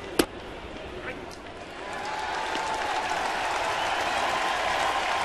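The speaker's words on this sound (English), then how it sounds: "Now you can hear the crowd reaction as Mathis throws a strike." A baseball stadium crowd at a major-league game rises into a swelling, sustained roar after a pitch, following a sharp crack at the start, with broadcast commentary speech mixed in.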